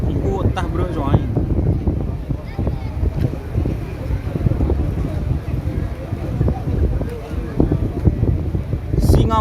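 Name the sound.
wind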